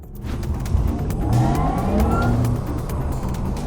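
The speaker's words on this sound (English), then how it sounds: "This is what 761 horsepower sound like in the Porsche of the future." A Porsche Taycan Turbo S electric car with 761 horsepower accelerates hard, a rising electric whine climbing in pitch over a steady road and wind rumble, loud and continuous from start to finish.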